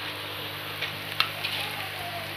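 Grated carrot halwa roasts in a pan over a steady, soft background sizzle, with a couple of faint clicks from stirring, close but quiet and without speech.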